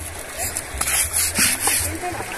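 Clothes being washed in the Truchas river, with water splashing and sloshing in uneven bursts close by while voices talk over it.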